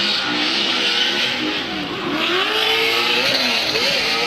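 The Eurofighter BMW drift car at a Formula Drift qualifying event in New Jersey, its engine revving hard and loud with rising and falling pitch as it slides, the note wavering continuously over crowd and track ambience.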